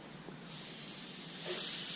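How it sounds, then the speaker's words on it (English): Air compressor kicking on in a workshop during pinstriping of a 1979 Chrysler Cordoba, heard as a rising airy hiss that swells and grows louder near the end, no speech. "Of course, that compressor had to kick in."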